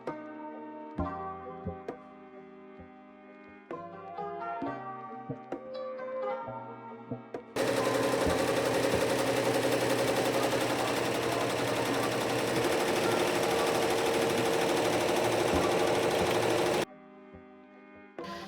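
A six-head embroidery machine stitches 3D puff designs on Richardson caps, droning in a dense, steady mechanical whir for about nine seconds. Music plays before and after it.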